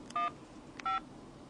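Two short electronic keypad beeps from a phone while a number is entered, crisp and evenly spaced about half a second apart, alone over a faint background hiss.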